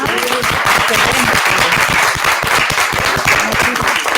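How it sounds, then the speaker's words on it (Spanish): Loud, sustained applause from an audience at a panel discussion on a new constitution, a thick continuous crackle of many people clapping at once for the full stretch. "queremos agradecerle con un aplauso"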